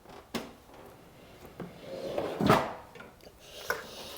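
A bottom drawer of a custom tool cabinet for a classic Mini opens with a few close, sharp knocks and then a heavier sliding rumble and clunk midway, followed by lighter taps, with no talking.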